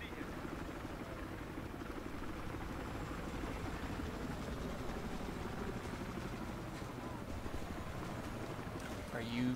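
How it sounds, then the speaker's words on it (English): Helicopter circling in the video game Battlefield Hardline, a steady rotor drone that carries through the whole passage at constant loudness, with a voice talking over it. "so this helicopter's just doing circles"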